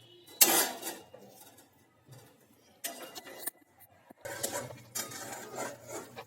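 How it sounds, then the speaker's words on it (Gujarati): Utensils clatter and scrape in a pan as jaggery is melted and stirred over low heat, coming in several short bursts of metallic clinks and stirring with quiet pauses between. "તેની અંદર આપણે આ રીતે ગોળને ઓગાળી નાખશું, કારણ કે ધીમા તાપથી ગરમ થવા દેવાનું છે મિત્રો"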